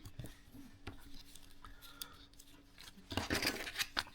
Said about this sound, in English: Just fold it down carefully